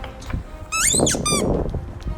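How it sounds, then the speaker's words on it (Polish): A squeaky toy ball squeaks twice in quick succession, loud and close, with high wavering rising and falling squeals over a low room background. "Gdzieś właśnie tutaj słyszałem dźwięk tej piszczałki."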